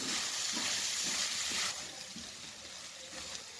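Chicken makhni pizza filling with white sauce and fresh cream is stirred in a hot pan, a steady close sizzle with a wet stirring hiss that eases slightly partway through.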